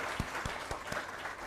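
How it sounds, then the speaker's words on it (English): Applause from the audience at the 28th Foundation Day celebration of the Ministry of Earth Sciences, a steady wash of clapping, moderately distant and fairly soft, with a few sharper individual claps standing out. "I request all of you to give a big applause to all together."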